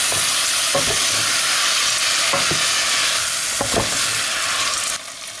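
Coquillette pasta with chorizo cooking in broth in a pan, giving a loud, dense, continuous sizzle and bubbling hiss close up, with a few soft stirring scrapes, easing slightly near the end.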